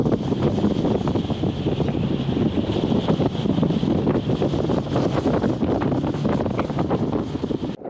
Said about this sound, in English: All right, so it's a little windy.